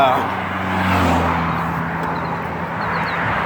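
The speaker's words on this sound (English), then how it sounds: "a lot of cars are passing by and it's coming. They're very noisy" Cars rush past on a nearby road, making a steady, loud roar of traffic noise beneath a person talking.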